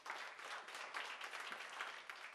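A church congregation applauds with a dense, even wash of clapping that holds steady for a couple of seconds at moderate distance, with no voices above it.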